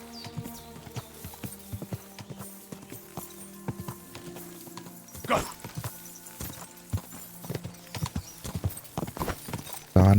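Horse hooves clip-clop in a steady walking rhythm while riding through Kingdom Come Deliverance 2, close and moderately loud, with faint talk in the background.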